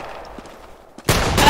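A gunshot in the video game Arsenal: after a quiet stretch with faint background sounds, a sudden loud blast hits and stays as dense, roaring noise through to the end.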